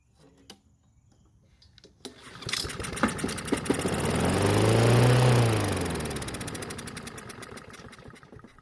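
A BlackMax lawn mower engine, primed by hand with gasoline, catches after a few clicks and roars up loudly and close, then slowly sputters and fades as it runs out of fuel.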